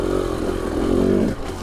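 Husqvarna TE300i two-stroke dirt bike held at high throttle, a close, loud, raspy buzzing engine note that swells briefly and then eases off at the end.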